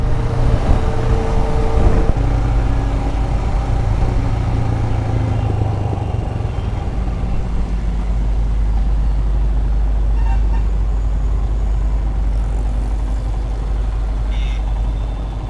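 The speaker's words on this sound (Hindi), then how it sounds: "ट्रैफिक बहुत ज़्यादा है यहाँ पे" Heavy city traffic in Coimbatore, South India, rumbles on continuously, with engines of cars, motorbikes and trucks droning close by and a few horn toots cutting through.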